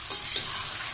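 Onions sautéing in a pan for onion thokku give a soft sizzle, with a couple of quick scraping stirs over a steady frying hiss.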